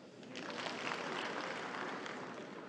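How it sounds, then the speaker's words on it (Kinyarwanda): A live audience at a Gen Z Comedy stand-up show claps in steady, dense applause that swells and holds for a few seconds, fairly soft and with no talking over it. "Mwampaye amashyi."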